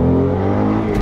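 Ford Mustang engine revving hard under acceleration, a loud, steady close-up drone of harmonic engine tone that holds through the whole brief burst.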